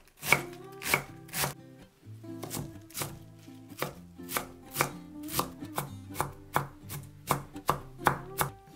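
A knife chops through green cabbage on a cutting board in a steady run of crisp, close thuds, about two strokes a second with a brief pause early on, loud and clear with no talking.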